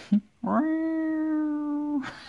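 A human voice imitates a cat's long, drawn-out meow, a single sustained nasal tone held steadily for over a second before trailing off, close and clear, with brief breaths on either side.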